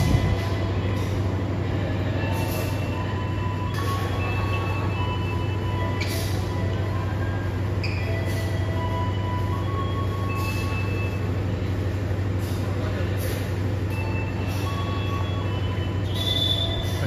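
A passenger train, the KA Bengawan economy-class train, idles steadily at a station with a low rumble and constant hum, faint metallic squeals and clicks scattered throughout, no voices.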